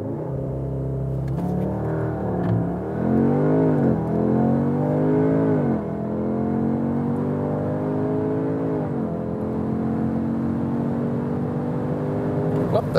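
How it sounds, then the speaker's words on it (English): A 2021 Audi S3 Sportback with all-wheel drive launches hard using launch control. Its engine rises in pitch, drops briefly at each upshift, then climbs again, heard loud from inside the cabin. "Really nice acceleration due to this all-wheel drive, also punch from the rear"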